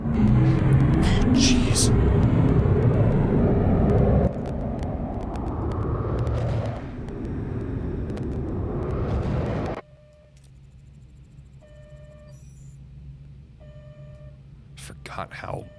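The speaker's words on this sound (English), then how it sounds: "stand by for the jump to slipstream" Starship jumping to slipstream in a Star Trek game: a loud, dense roaring rush that drops in stages and then cuts to a quiet hum with faint electronic beeps, a brief exclamation heard early.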